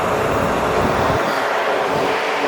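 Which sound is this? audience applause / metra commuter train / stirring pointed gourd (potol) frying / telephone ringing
metra commuter train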